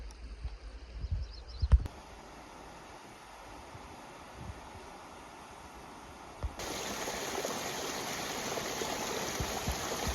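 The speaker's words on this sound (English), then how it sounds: "You can hear the thundering of the Snake River coming with those rocks all the way from up here." The Snake River in Yellowstone rushes over rocks with a steady broadband wash, heard from a distance above, with a brief knock near the start and the roar growing fuller for the last few seconds.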